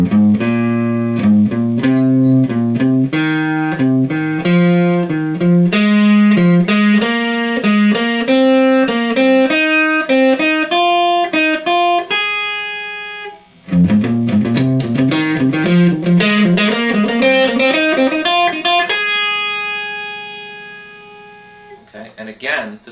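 Guitar runs a scale exercise, three notes up and one note back, in a steady stream of clear picked notes climbing in pitch, with a brief pause before a second ascending pass; played alone, close and fairly loud.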